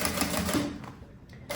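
Sewing machine running a quick burst of stitches along a seam on a handmade bag, a close, rapid mechanical whir that slows and trails off before a brief final kick.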